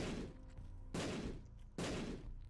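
Bombs detonate in The Binding of Isaac, three loud, full-band blasts spaced about a second apart, each with a short decaying rumble and no speech over them.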